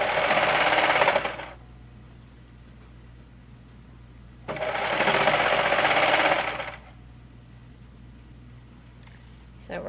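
Serger sewing machine stitching knit fabric for a shirt top, two bursts of fast, buzzing mechanical whirring, each about two seconds long, separated by a quieter pause with a low hum underneath.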